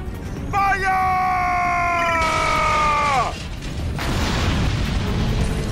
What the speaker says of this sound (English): The whole freaking building's coming down!